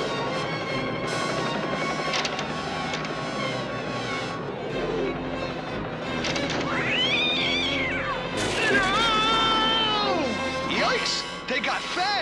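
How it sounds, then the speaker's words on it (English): A cartoon cat meows and caterwauls in rising, wailing yowls, loud and close, over a busy animated soundtrack with crashes and whacks. "That kid is holding the cat."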